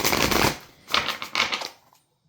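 A deck of tarot cards is shuffled by hand in quick bursts: a dense riffle and then several shorter flicking passes. Close and crisp, ending in silence, with no talking.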